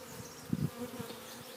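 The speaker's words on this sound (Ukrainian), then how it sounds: "От бджілка, яка не долетіла, долітає сюди" A honey bee buzzes briefly near a beehive entrance, a faint close hum with a slightly louder pass in the middle.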